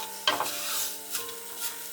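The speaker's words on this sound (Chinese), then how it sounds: "冷锅冷油将樱花虾炒香。" Sakura shrimp stir-fried in oil started in a cold wok, a soft continuous sizzle with a couple of brief scraping stirs of the spatula, close and fairly quiet.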